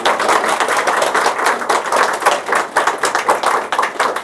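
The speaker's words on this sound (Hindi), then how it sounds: "जरा ताली जोरदार।" An audience at an award ceremony claps loudly and continuously, a dense patter of many hands that stays steady for the whole stretch.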